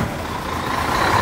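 A truck manoeuvres nearby, its engine rumbling steadily at close range with a broad, dense noise and no voices.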